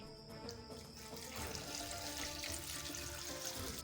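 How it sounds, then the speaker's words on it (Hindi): Two glasses of water pour into a beef karahi with mutton tail fat, turmeric and a little oil, a steady splashing rush that builds slightly and runs on without talk. "अब डालेंगे हम 2 गिलास पानी।"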